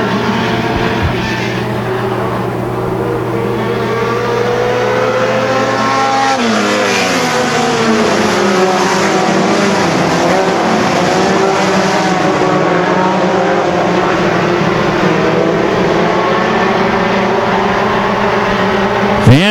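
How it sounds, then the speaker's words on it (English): Race cars roar around a track in a feature race, a loud continuous engine drone with rising and falling pitch as cars pass close by, sustained throughout. "Van Mil, your race leader in the 40 car, stretching things out just a little bit"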